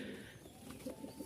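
Rajshahi Naira Giribaz pigeons coo softly in a brief, faint murmur close by, with low, rolling calls over background noise.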